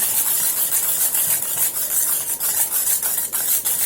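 Sugar and eggs are whisked together by hand in a bowl for a bakery-style cake batter, giving brisk, rhythmic scraping and clinking strokes that repeat evenly and close up, with no talking.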